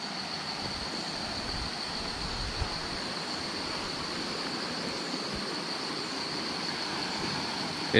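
Water flowing down from the mountains in a forest stream, a constant broad rushing wash heard close, steady throughout without voices.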